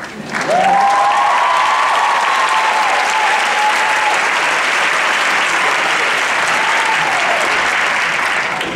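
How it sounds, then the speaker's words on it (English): A large commencement crowd at Hunter College claps louder on request, a dense, sustained wave of applause with whoops and cheers rising over it near the start. "y'all are going to have to applaud a little louder than that."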